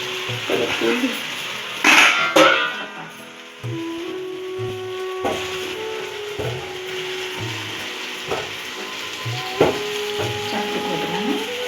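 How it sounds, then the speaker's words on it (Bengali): Meat and rice fry together in a pot for home-style biryani while a spoon scrapes and clatters through them in uneven strokes, with a low sizzle underneath. "মাংস চাল আর সব কিছু দিয়ে এটা সুন্দর করে একটু কষিয়ে নেব"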